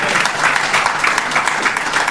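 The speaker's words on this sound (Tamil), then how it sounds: "கைத்தட்டலாம்." Church congregation applauding during a sermon, a steady dense clapping that fills the whole short stretch at a loud, even level.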